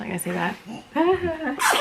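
A person talks briefly in a domestic setting, and a short, sharp sneeze bursts out near the end, close and loud.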